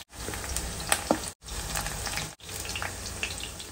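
Okra (bhindi) frying in hot oil in a kadhai, a steady close sizzle with a couple of brief breaks.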